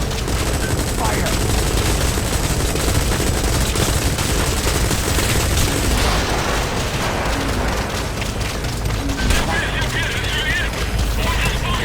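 Dense, continuous gunfire rattles through a Metal Gear Solid 5: The Phantom Pain mission near the Kugenga mine, with steady bursts and booms at high loudness throughout.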